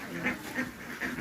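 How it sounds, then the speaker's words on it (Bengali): Ducks quack at a duck market selling birds for Manasa Puja in Begunkodar, with about four short, nasal calls spaced roughly every third of a second, close and fairly clear over a busy background murmur. "এখানে প্রচুর হাঁসের রাজ্য চলে এসেছে।"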